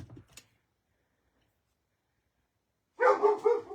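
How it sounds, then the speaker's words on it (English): A dog barks nearby in a short burst after a long quiet gap, with a brief muffled sound at the start. "sorry about the barking"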